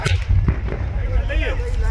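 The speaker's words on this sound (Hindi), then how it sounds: "सिलेंडर में जोरदार धमाका होता हुआ नजर आया, जिस धमाके की आवाज आप सुन रहे हैं।" Gas cylinders on a burning truck at a Bareilly gas agency explode, with a couple of sharp cracking bangs early on over a continuous low roar of flames.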